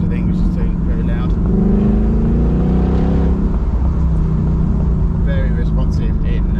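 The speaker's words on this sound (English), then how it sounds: "It's very throaty V8, as you'd expect." A Ford Mustang GT's throaty V8 rumbles loudly up close, its deep engine note swelling and falling through the clip, with a person talking over it.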